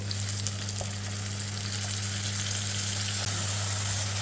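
Finely chopped onion fries in a pan with a steady, even sizzle and a low background hum, and no one speaks.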